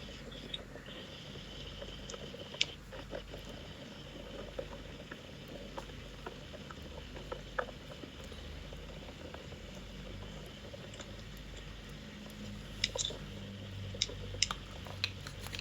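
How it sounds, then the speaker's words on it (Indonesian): Rain falling outdoors, a steady soft hiss and patter that continues throughout with occasional faint clicks and no speech. "Hujan, iya tahu hujan,"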